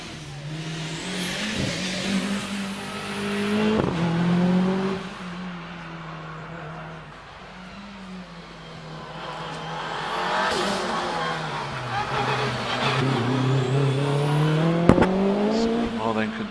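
A 2.3 litre 1999 Mitsubishi Evo 6 rally car on a hillclimb run at Prescott, engine revving hard and repeatedly climbing through gears with sharp shifts and pops, loud and close, while a commentator talks over it.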